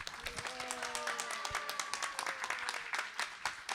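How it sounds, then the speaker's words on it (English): An audience at a kirtan session claps for the kartal and mridanga players and backup vocalists, a fairly faint, quick rhythmic clapping that stays steady throughout. "Big round of applause for our Kartal,"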